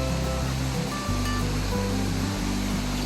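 A waterfall on Crown Land canoe country pours in a steady, dense rush of white noise, close and continuous with no voices.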